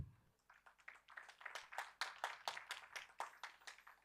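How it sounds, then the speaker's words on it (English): Conference audience applauds a speaker, a fairly quiet round of rhythmic hand claps at moderate distance that builds and continues steadily, with no speech. "A huge round of applause for Sir"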